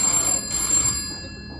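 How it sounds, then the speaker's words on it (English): A landline telephone rings in a room, its bright bell tone sounding steadily for the whole short moment at moderate loudness with no voices. "my parents got a phone call on their landline"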